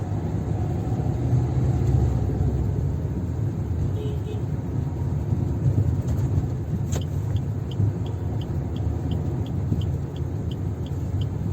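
Manual car engine and road rumble heard from inside the cabin while the driver shifts into second gear, a steady loud drone with faint light clicks near the end.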